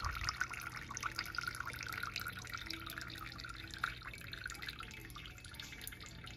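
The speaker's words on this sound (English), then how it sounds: "I'm just simply pressing on it like this and it's still draining out" Whey dripping from hanging cheese that is being pressed and left to drain: soft, steady drips and trickling, faint and close, with no voices.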